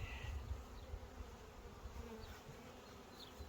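Honeybees fly around a beehive on a Farrar frame, a continuous close buzzing hum with faint passing drones and no talk.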